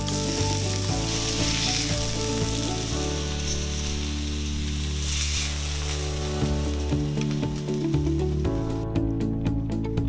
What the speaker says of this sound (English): brush the griddle with oil. Then add those garlicky tuna steaks.